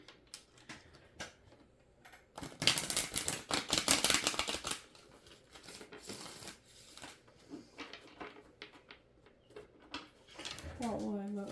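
Tarot cards being shuffled by hand, a dense burst of rapid riffling and flicking for a couple of seconds, then scattered softer taps and slides, close and fairly loud.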